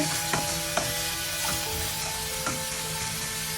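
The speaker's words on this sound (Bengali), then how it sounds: "আমি এখন ভালোভাবে ভেজে নিব" Chopped ingredients for Afghani biryani frying in a pan, a steady close sizzle with a few sharp clicks of a stirring spoon spaced through it.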